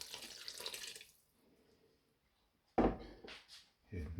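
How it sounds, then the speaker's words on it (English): A short burst of splashing water as water is poured into a pot of spicy fish and vegetable soup, then quiet, followed by a sudden clatter and brief movement sounds nearby. "I'm just going to add another half a cup of water."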